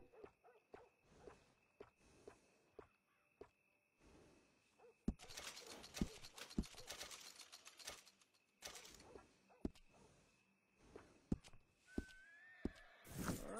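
A horse in the video game Red Dead Redemption 2 gives a whinny, with scattered hoof clip-clops, steps and small mechanical clicks over quiet, faint in-game ambience and no speech.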